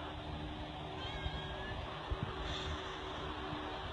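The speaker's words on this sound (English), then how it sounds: "She's meowing." A cat meows faintly indoors, a couple of short, thin calls in the first half of the clip over a low, steady room hum, with no voices.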